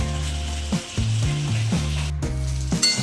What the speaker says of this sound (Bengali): গাইস দেখুন আমার এটা লাল লাল করে ভাজা হয়ে গেছে।